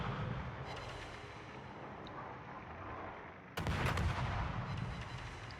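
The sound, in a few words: warship guns firing at the Napoli, from a video game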